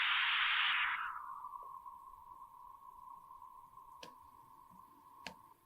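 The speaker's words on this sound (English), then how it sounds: "only let through a narrow band of noise centered around 1 kilohertz" Band-limited noise centered around 1 kHz, used in an acoustics demonstration for audiologists and speech-language therapists. A broader hiss narrows into a thin, steady, moderately loud tone-like noise, with a couple of faint clicks near the end.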